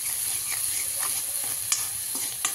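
Green chillies stir-fried in a pan for Marathi-style methi bhaji, giving a steady sizzle and frying hiss with a few sharp clinks and scrapes of stirring, close and without any talk.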